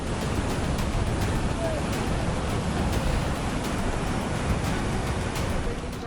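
A flooded river swollen by heavy monsoon rain rushes past eroding banks in a dense, unbroken roar that stays loud and steady throughout.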